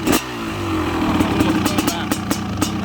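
A 1997 Honda CR500R two-stroke motocross bike, fully restored with a Pro Circuit pipe, revs up close and loud after a sharp start, its engine note wavering with repeated throttle blips.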